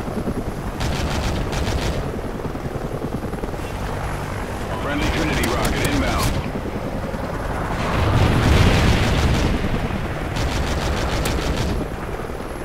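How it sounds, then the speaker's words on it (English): A helicopter flies in an online multiplayer shooter game, its loud rotor drone running throughout with bursts of rapid gunfire in between. "Friendly helo pilot active."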